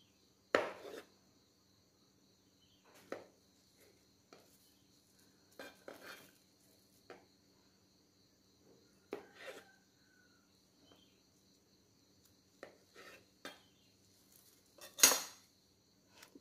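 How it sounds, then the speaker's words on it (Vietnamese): A knife slices peeled waxy bananas lengthwise on a board, sparse scattered taps and soft cuts at irregular intervals, close and quiet amid near silence. "Mình xắt theo cái chiều dài nè."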